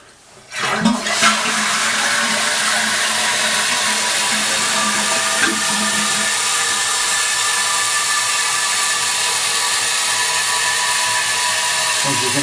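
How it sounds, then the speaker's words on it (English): Toilet flushing, a sudden gush that settles into a loud, steady rush of water refilling the tank and bowl, continuing without a break. "I'm going to flush this."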